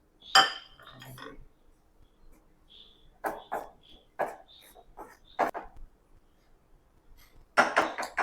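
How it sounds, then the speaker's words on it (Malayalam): A metal spoon stirs spice powder as it heats in a hot pan, giving scattered clinks and scrapes against the pan, with a brief cough near the start and a louder clatter at the end. "ചട്ടി ഏകദേശം ചൂടായിട്ടുണ്ട് നമുക്ക് പൊടി ഇതിനകത്തേക്ക് ഇട്ടിട്ട്"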